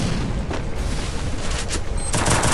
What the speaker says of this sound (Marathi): बॉम्ब टाकले बॉम्ब टाकले